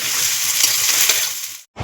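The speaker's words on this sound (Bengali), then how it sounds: "কয়টা কাঁচা লঙ্কা দিয়ে দিলাম এগুলোকে এবার আমি ভালো করে ভেজে নেবো" Garlic and green chilies hiss and crackle in hot oil in a pan with a dense, close sizzle and light stirring, cutting off abruptly near the end before a short burst resumes.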